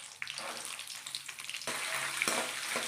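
Curry leaves and green chillies crackle in hot oil with urad dal and mustard seeds, the sizzle jumping louder as they are added, close and steady with sharp pops.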